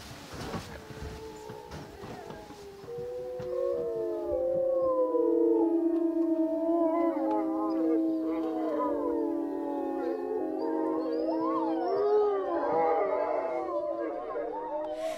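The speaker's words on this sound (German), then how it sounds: "Im Wolfspark Alpha leben 25 Wölfe in einem abgeriegelten Waldgebiet." Twenty-five wolves in a fenced forest wolf park in the French Alps howl in chorus, long rising and falling wails that overlap and swell into a sustained, fairly close concert after a brief noisy start.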